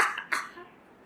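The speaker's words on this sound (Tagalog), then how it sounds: "musamot inyo akong ubo" Two short close coughs from a person with sinusitis, the second sharper, then fading to near silence.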